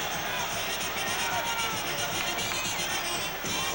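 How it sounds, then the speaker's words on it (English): A big boxing arena crowd roars steadily, a dense sustained wall of cheering and shouting that stays loud as a fighter enters the ring. "And now the noise will begin to swell as he enters the ring and comes within sight of most of the crowd."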